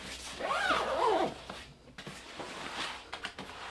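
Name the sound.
zipping closed Bellroy bag compartment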